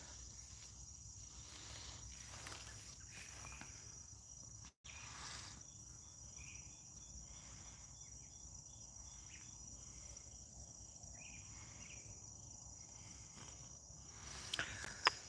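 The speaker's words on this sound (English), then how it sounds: "You hear the crickets?" Steady crickets chirping throughout, a dense continuous insect trill at moderate distance, with a brief dropout midway and a faint knock near the end.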